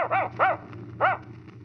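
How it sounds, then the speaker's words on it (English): A dog in a bag in a 1943 radio drama gives three quick yips and whimpers, close and moderately loud, with short gaps between. "Why, it's a dog."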